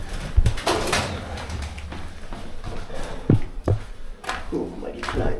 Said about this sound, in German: Schaut euch die Tauben an. Tausende Tauben.